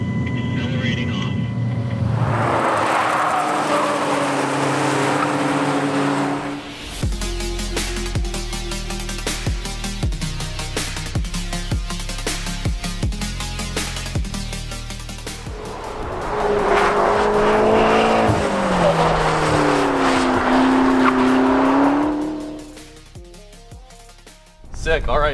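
A McLaren 12C accelerates hard on the Sonoma Raceway track, its engine note climbing loud and close through rapid gear changes, with intermittent talk heard over it before it fades toward the end.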